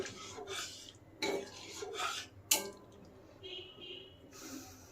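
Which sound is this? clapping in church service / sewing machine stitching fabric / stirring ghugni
stirring ghugni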